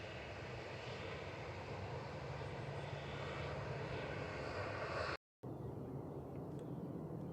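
A passenger jet's engines roar steadily and fairly loud as it taxis at Manchester Airport, a continuous broadband rumble with a brief cut near the end and no talk over it.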